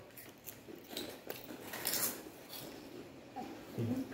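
Someone bites into a small, cube-shaped, layered cheese puff pastry: a few quiet, crisp crunching snaps spread over several seconds, with soft rustling in between.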